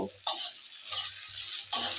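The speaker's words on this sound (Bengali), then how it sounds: "এবার এর মধ্যে দিয়ে দেব কোচানো পেঁয়াজ। এবার এগুলো আমি ভালো করে নেড়ে নেব।" Chopped onions frying in a pan for khichuri are stirred in a few bursts, each spoon scrape bringing a rush of sizzle over quieter gaps, close and moderately loud, with no talking.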